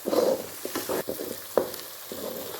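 Something fries in a pan for Guntur fish curry while a utensil stirs and scrapes it, producing irregular bursts of sizzle and clattering strokes over a softer frying hiss, close and unaccompanied by talk.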